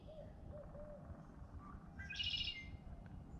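A barred owl calls around midday, with a brief series of short hoots followed by a strained, higher final note, faint and distant against a steady outdoor background.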